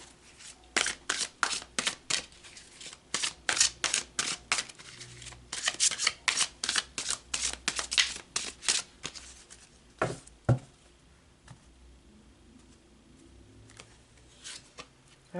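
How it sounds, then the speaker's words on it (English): Oracle cards are shuffled by hand for a card reading, a rapid run of crisp riffling flutters that slows into a few separate slaps and taps near the end, close and clear with no talk. "So let's pull some more cards."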